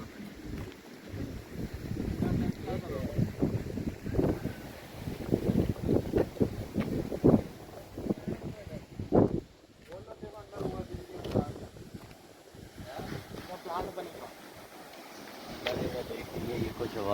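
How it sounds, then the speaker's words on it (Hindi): Water rushes under pressure at a small village dam, a steady turbulent wash with gusts of wind buffeting the microphone, and people talk intermittently over it outdoors. "ये पानी प्रेशर से जा रहा है शायद आगे।"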